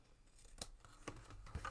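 Scissors trimming small flower craft decorations for a paper favor box, making a few quiet, crisp snips spaced unevenly over a brief moment, close but faint, with no talking.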